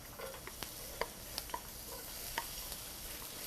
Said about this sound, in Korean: 자, 마늘부터 볶겠습니다.